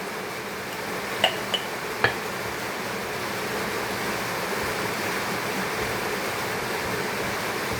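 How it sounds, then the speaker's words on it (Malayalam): Rain falls steadily outside, a dense even hiss with a couple of faint clicks early on and no voices. "പുറത്ത് മഴ പെയ്യുന്നുണ്ട് അതിൻ്റെ സൗണ്ട് ഉണ്ട്"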